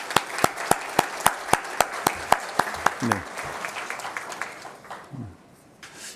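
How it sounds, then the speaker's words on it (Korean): Church congregation applauding to welcome a visiting couple during a Sunday service: steady, even rhythmic clapping for about three seconds that thins out, with a voice speaking briefly afterward. "우리 박수로 환영하겠습니다."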